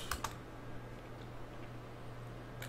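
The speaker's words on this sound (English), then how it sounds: "helps to find the home keys before you start typing" Brief computer keyboard typing, a few quick clicks near the start and again at the end, fairly faint over a steady low electrical hum.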